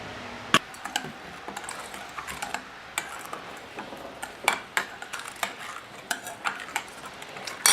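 A spoon clinks and scrapes around a bowl as an olive oil mixture for Greek-style pork appetizers is stirred, producing irregular light taps and clatter close by with no talking.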